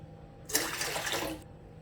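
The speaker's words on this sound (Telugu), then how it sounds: "ఇడ్లీ పాత్ర తీసేసుకొని ఒక 2 పెద్ద గ్లాసుల నీళ్లు వేసేసుకోవాలి" A short burst of water pouring into an idli steamer vessel, a steady broadband splash lasting about a second, close and fairly loud, with no talking.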